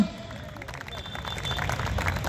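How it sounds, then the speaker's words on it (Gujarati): Applause from the audience at a bodybuilding competition at Om Party Plot in Bhavnagar, a dense wash of clapping that swells toward the end, with a voice over the crowd. "એક વાર હો જાય જોરદાર તાળીઓ"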